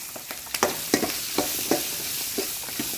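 Garlic, green chilli and onion fry in hot oil with mustard seeds, a close, bright sizzle punctuated by repeated rhythmic scrapes of a stirring spoon against the pan, without speech.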